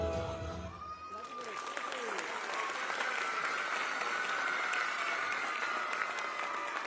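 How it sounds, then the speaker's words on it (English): Audience applause after a girls' dance performance at a children's school annual day celebration, a dense sustained roar of clapping from a large crowd, with a fading musical tone at the start and voices mixed in. "I need more round of applause."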